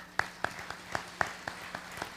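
Sparse, evenly spaced claps at a community event, about nine sharp, fairly close hits in a slow rhythm at a modest level, with no crowd swell.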